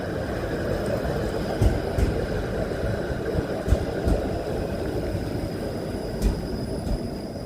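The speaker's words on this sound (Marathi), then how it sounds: "ही जी समोरून जी येते ना ती स्ट्रीट कार आहे" A four-car street tram runs on rails through city traffic, a steady low rolling rumble with faint high metallic ringing lines and occasional clanks, moderately near and fairly even in level.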